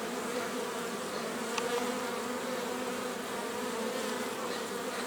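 Honeybees and drones droning steadily at a hive, a dense continuous buzz of many insects close by, with no voices.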